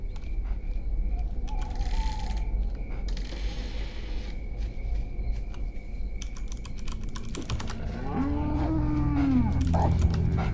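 Cows moo in a cow-tipping video game set in fields at night, with low lowing calls rising toward the end over constant keyboard typing and game ambience.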